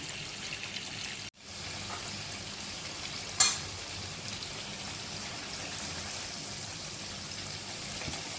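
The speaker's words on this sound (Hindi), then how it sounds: "थोड़ा सा इसको और फ्राई करेंगे।" Chicken pieces frying in a pan toward golden brown, a steady dense sizzle and crackle throughout, close by, with one brief dropout and a single sharp clink partway through.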